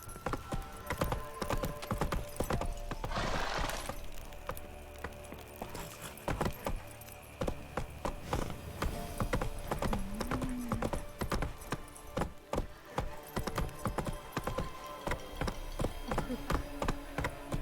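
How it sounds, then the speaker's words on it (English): Horse hooves in The Witcher 3: Wild Hunt game, a rapid continuous clip-clop of a galloping mount with jangling tack and a brief whinny, loud and close throughout. "Whoa there, Roach."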